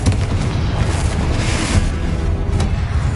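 A Confringo blasting spell explodes in Hogwarts Legacy as a dense, rumbling boom with a loud low-end roar that fills the whole moment, and a sharper burst cracks out near the end.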